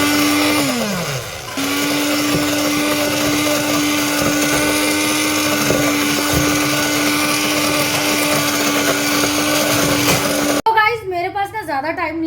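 A hand blender whirs steadily and loudly as it grinds soaked rice and lentils into dosa batter, with a brief pitch drop near the start before the motor holds a constant drone; it stops abruptly, then talking follows.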